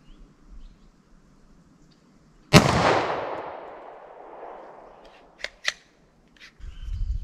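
A long-slide pistol fires one sharp, close shot of Hornady Critical Duty ammunition with an echoing tail outdoors, followed by a few quick metallic clicks.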